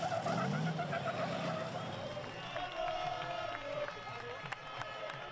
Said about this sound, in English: Smoking tyres, lots of donuts, burnt rubber, and cheering truck racing fans who want to see their matador, Antonio Alberthetti.